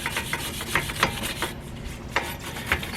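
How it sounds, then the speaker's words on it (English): A tool scrapes rust off the front wheel hub of a Lexus RX330 during a brake rotor change. Several quick, rhythmic rasping strokes sound close and distinct. "I'm going to go ahead and scrape off this rust here on the hub so the new rotor has a nice,"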